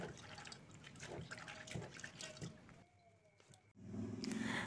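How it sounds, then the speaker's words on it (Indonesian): Soybeans rubbed by hand in water to loosen their skins give soft, faint squishing and light splashing, with a few drips near the end. "Caranya saya gosok-gosok seperti ini, supaya nanti kulitnya pada ngelupas."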